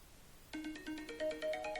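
A new phone's timer alarm plays a short melodic ringtone, a bright sequence of beeping tones that starts suddenly and repeats, fairly quiet and alone.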